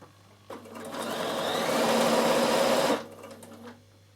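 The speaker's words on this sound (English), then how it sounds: "you're coming right down to here and sewing to that seam" A Bernina sewing machine stitches a mitred corner on a light linen napkin, running in one steady, close, whirring burst of about two and a half seconds before stopping.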